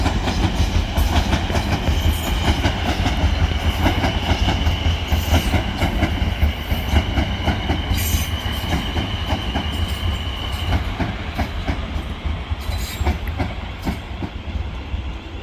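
A Class 450 electric multiple unit in service to Portsmouth Harbour rolls through Clapham Junction at evening rush hour, a loud, close, continuous rumble with rhythmic wheel clatter and faint high squeals, no talk over it.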